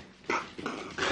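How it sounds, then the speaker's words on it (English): A puppy gives a few short whimpering yelps in quick succession, faint and close by, with no talking over it. "Come here, puppy."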